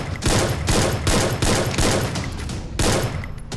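Rapid bursts of gunfire from the battle royale game Free Fire, loud and close, with repeated automatic volleys in quick rhythm and no talk over them.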